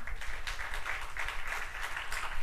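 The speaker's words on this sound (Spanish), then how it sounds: "Démosle un aplauso al Señor" A church congregation applauds together in steady, dense clapping that runs evenly and fairly close throughout, with no voices rising above it.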